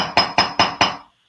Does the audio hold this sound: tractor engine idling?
no